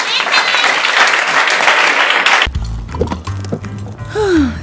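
Schoolchildren clap for themselves in a burst of dense, loud applause for about two and a half seconds, then it cuts abruptly to a quieter indoor scene with a voice and scattered sounds.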